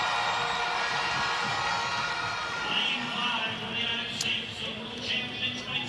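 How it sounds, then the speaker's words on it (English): A stadium crowd at an athletics meeting cheers for 400m hurdler Rochelle Clayton, a broad, steady roar from many distant voices with rising shouts, while a commentator talks over it. "Well, Clayton got a great cheer."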